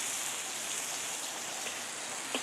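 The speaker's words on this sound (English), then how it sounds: "Between the sizzle of the wok and the sound of the rain on the roof, it's quite a noisy job." Rain falls on a roof in a dense, even patter, a constant hiss that continues without a break, with a couple of faint knocks near the end.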